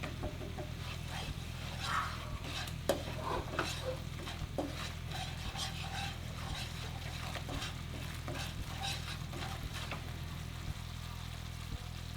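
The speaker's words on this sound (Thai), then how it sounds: "เราใส่ลงไปก่อน 100 ml นะครับ เพื่อจะผัดกับพริกแกงนะครับ" Panang curry paste stir-fried with coconut milk in a pan, a steady low sizzle with scraping and stirring strokes of a utensil against the pan throughout, close and alone.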